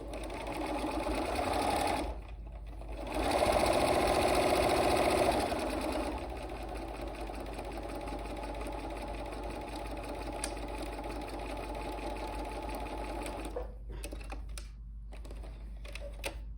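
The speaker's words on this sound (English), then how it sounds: "Let's just line these up and sew that seam across." A sewing machine stitches a seam joining quilt basket blocks, its steady mechanical whir humming throughout with a louder, faster run in the early seconds before settling back to a quieter drone.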